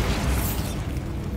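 The Bombarda spell goes off in Hogwarts Legacy, a booming blast that hits at once and then rumbles and crackles away over about a second.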